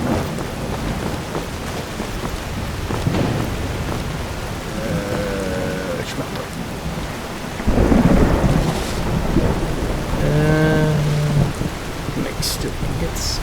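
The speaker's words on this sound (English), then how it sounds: "I can hear the heavy downpour from, like, out here" Heavy rain pours steadily in the Skyrim video game while deep thunder rumbles roll in, swelling loudly partway through; faint voices and game tones sit under the storm.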